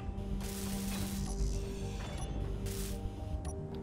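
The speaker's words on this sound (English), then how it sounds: "We should probably weld these blocks." Blocks are welded in Space Engineers with a hand welder, a harsh mechanical ratcheting buzz that comes in bursts over a constant machine hum, close and fairly loud.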